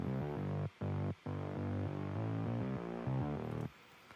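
Second synth bass line from a song pack in an EDM production, playing a rhythmic sequence of short repeated notes with brief gaps, fairly quiet and heard alone.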